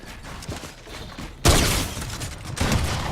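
Combat shotgun blasting in Fortnite, a sudden loud close-range shot after a quieter stretch of game noise, followed by a second heavy blast a second later.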